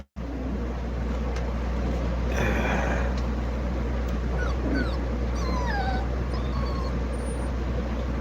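A puppy whimpers and yips in a few short, thin cries over a steady low background hum, fairly close and moderately loud, with no talking.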